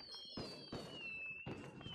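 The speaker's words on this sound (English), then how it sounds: "We still got fireworks in the area too" Fireworks exploding in the pixel sandbox game Super WorldBox: three sharp, close bursts about half a second apart, over a steady high whistling tone.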